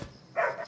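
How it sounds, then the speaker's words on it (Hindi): A dog gives a single short bark, mid-pitched and fairly close, in a quiet indoor night setting with no talk over it. "अरे क्यों भौंक रहा है?"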